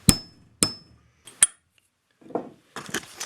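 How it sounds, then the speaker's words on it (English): A metal punch is hammered into copper: three sharp metallic strikes ring out close by, each with a bright ringing tail, followed by softer scraping and shuffling noises. "Take this center punch here, not really a center punch, it's just a punch."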